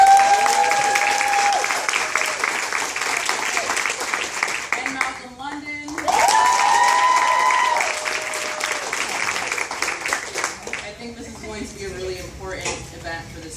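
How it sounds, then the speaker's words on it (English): Audience at an anniversary homecoming applauds two guests, a broad wash of clapping mixed with clattering and voices, with tonal musical notes sounding through it. "I want to give a sort of round of applause for our two guests"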